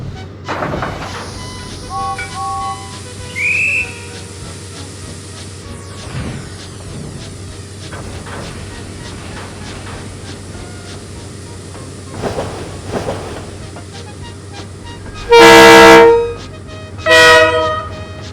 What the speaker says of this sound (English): James bid farewell to Gordon and puffed away to fetch his coaches at the station